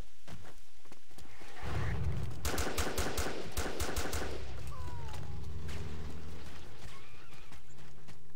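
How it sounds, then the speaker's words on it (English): Gunfire in the military shooter game Joint Operations: Typhoon Rising, with a rapid burst of sharp shots in the middle of the clip, fairly faint and distant over a low background rumble and game ambience. "Sniper shot."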